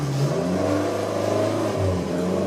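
Interior drone of a Fiat Abarth with a 5-speed manual while driving, a steady loud engine hum with revving that dips briefly near the end, no talk.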